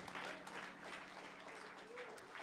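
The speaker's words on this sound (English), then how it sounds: "Let's clap our hands to the Lord and thank God." A church congregation claps their hands together in praise during a worship service, a dense, steady spread of applause at moderate distance with voices faintly mixed in.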